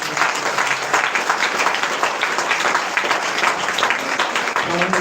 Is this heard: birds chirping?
no